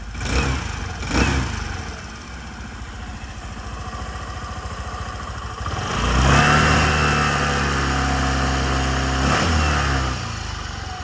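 A 2019 Suzuki Address 125 scooter engine runs with a steady mid-pitched hum, swelling louder partway through as it revs up, with no talking.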